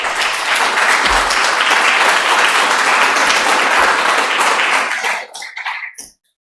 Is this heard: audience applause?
yes